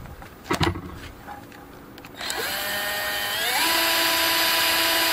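A cordless electric drill whirs up after a brief clatter, its motor whine rising in pitch and holding steady and loud to the end, while building a DIY metal lathe.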